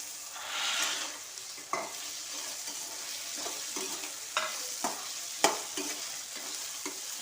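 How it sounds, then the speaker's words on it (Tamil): Roasted peanuts being stirred in a pan of sautéed ingredients for a peanut chutney: a soft sizzle with repeated close scraping and clinking strokes of the spoon, and no talking. "இதை வந்து வேர்க்கடலை சேர்த்துக்கிறேன்"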